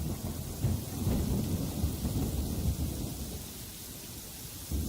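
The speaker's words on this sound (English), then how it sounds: "Well, that was quick, and it starts to rain." Steady rain falls with deep rolling thunder rumbling through, loud and close, during a storm that begins in the open-world game Yonder: The Cloud Catcher Chronicles; no voices.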